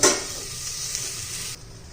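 Masala being sautéed in hot oil in a pan for misal pav gives a loud hissing sizzle with a brief stirring scrape at the start, then the sizzle drops away abruptly near the end.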